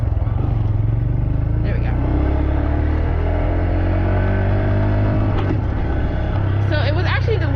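Small Honda Grom motorcycle engine drones steadily through a U-turn, a continuous low rumble with shifting pitch as the bike slows and turns, loud wind buffeting throughout and someone talking over it.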